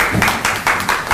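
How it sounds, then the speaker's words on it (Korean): A small audience claps briefly, a short burst of scattered hand claps close by, lasting about a second. "박수 한번 쳐주세요"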